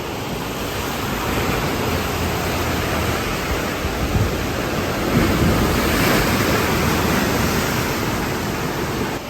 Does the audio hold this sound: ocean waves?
yes